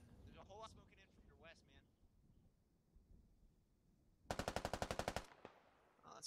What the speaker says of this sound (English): laying down some cover fire